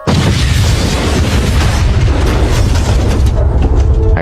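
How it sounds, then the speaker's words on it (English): A thunderous explosion in a country club parking lot, a loud, sustained, rumbling boom with a broad, roaring body lasting several seconds before slowly thinning out. "all of a sudden there was this thunderous boom"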